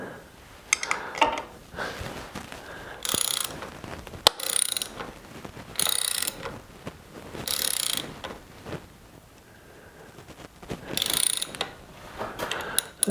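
A ratchet clicks in quick bursts while bolts are tightened on a BMW R1250GS final drive protector, the bursts of clicking broken up by short pauses and light handling noises.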